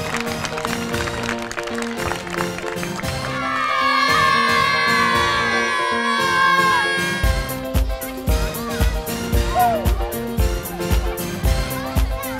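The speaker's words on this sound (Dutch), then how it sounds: "En daarom wil ik een daverend applaus voor de studenten van het CIOS" Children and a crowd at a sports day cheer and shout for the CIOS students, a bright swell of whoops rising over steady rhythmic background music before fading back under the beat.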